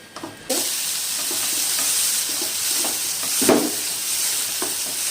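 Shami kababs frying in a frying pan, a steady hiss of sizzling oil close by, broken by soft scraping stirs and one louder crackling burst midway.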